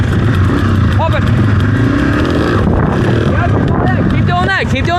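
A dirt bike engine revs loudly and steadily at close range during riding training, with people talking and calling out over the continuous engine roar.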